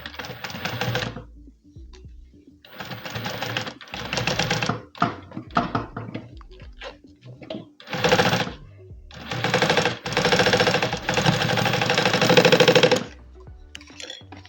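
A sewing machine stitches a zipper onto a fabric bucket bag in short and long bursts of rapid needle chatter, separated by brief pauses, close and fairly loud.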